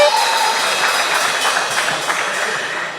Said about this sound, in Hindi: तो फिर थोड़ा तालियां बजाइए जरा